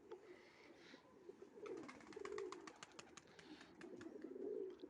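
Young homing pigeons around a loft, with soft repeated cooing and light chirps close by, rising and falling over a steady outdoor background.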